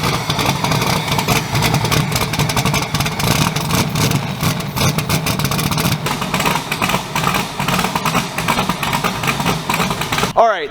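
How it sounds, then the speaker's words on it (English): A new 2000-horsepower methanol-fuelled race engine runs steadily at a loud, rough, throbbing idle, close by and continuous, cutting off abruptly at the end. "We have the engine cranked up. It's running."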